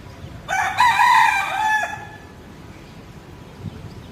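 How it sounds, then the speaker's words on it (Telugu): A neighbour's rooster crows once, loud and fairly close, a drawn-out call lasting over a second in the early morning, then quiet ambience follows. "వినేసేయండి కోడి కూతని."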